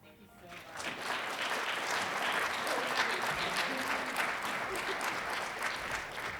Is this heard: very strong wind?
no